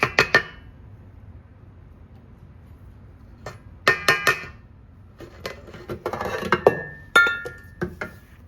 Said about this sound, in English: I'll get the sides of the bowl scraped.